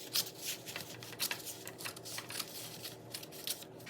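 Scissors snip through a paper pattern draft for a cropped puffer jacket in a quiet home sewing setting, giving a run of close, crisp cutting bursts and rustles at an uneven rhythm.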